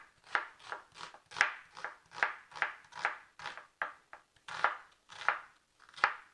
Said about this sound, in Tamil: அதனால் ரெண்டுத்தையும் நல்லா பொடியாக நறுக்க போகிறேன்